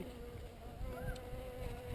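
Honey bees from a newly installed bee kit buzz steadily close by on a cold day, a soft continuous hum with brief louder passes, and no talk.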